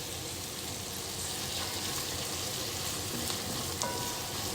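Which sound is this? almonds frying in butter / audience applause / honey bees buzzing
almonds frying in butter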